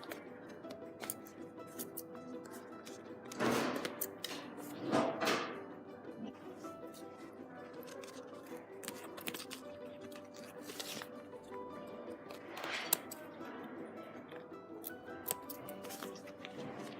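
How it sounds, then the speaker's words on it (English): Scissors snip through fabric while cutting out a reverse appliqué picture, giving close, quiet, repeated crisp snips at an irregular pace with short pauses between cuts. "So once you've finished cutting out your reverse applique"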